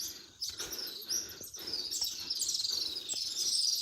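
Birds nesting on a rocky hill chirp steadily, with high, bright calls that keep repeating over a faint open-air hiss and no talking.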